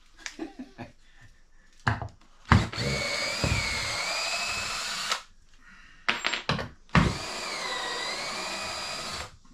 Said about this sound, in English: This drill is just about to die.